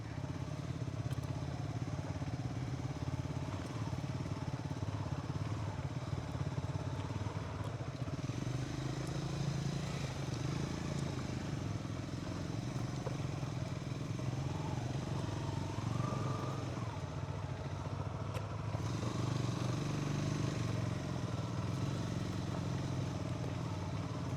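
A motorcycle ridden along a narrow off-road mountain trail through forest, its engine droning steadily and close throughout with shifting revs and rattling over rough ground.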